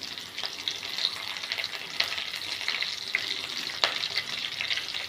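Curry leaves and vadagam crackle in hot tempering oil for mango and drumstick sambar, a steady close hiss with scattered sharp pops, no talk over it.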